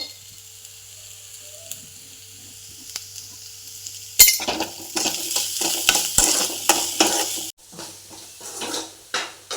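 Egg pepper fry sizzling loudly in a pan with ginger-garlic paste and salt, a spoon scraping and stirring in a busy rhythm after a quiet start, with one sharp metallic clatter midway.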